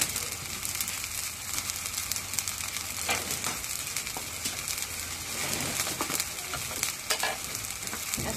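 Cumin and garlic paste frying in a pan, with steady broadband sizzling and repeated stirring scrapes throughout, close and fairly loud, with no voices.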